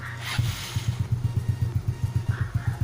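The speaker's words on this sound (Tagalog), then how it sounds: "Tapos, try ko buksan yung ating motor." A Yamaha Mio Sporty scooter engine cranks and catches close by, settling into a low, rapid, pulsing putter that holds steady to the end.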